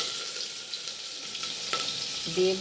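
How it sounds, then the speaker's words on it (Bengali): Onions dropped into hot oil with a dried red chilli, cardamom, cloves and cinnamon for chicken curry, giving a steady close sizzle with a brief clatter near the end. "এবার আমি পেঁয়াজগুলো দিয়ে দেবো"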